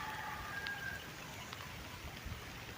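Rain falls steadily during bamboo-pole fishing outdoors, a soft, constant hiss of drops with no other prominent sounds.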